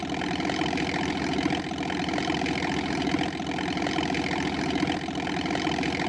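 A truck engine in a children's building video game drones steadily at an even, continuous loudness, like a mid-pitched idle, with no voices over it.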